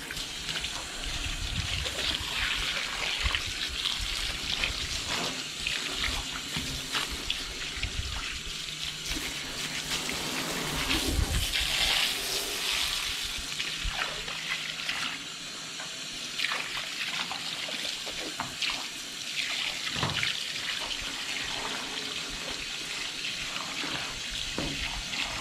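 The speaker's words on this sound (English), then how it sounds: "we're gonna go ahead and rinse it off." Running tap water gushes steadily over a gar fish being rinsed in a sink, a continuous close splashing stream with small shifts as the fish is moved under the flow.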